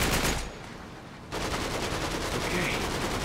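Gunfire in the video game Uncharted 3: Drake's Deception comes as rapid dense bursts of automatic shots. The firing is loud at the start, eases briefly, then resumes as sustained near rattling.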